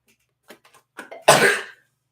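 A single sharp sneeze bursts out after a few small breathy sounds, close and loud, then silence.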